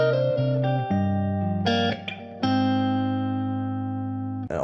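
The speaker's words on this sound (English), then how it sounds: "I'm gonna add some reverb to the second top guitar." A sustained electric-sounding guitar line with added reverb plays a few held notes in a studio mix, each tone ringing on with a smooth washed tail and no voices.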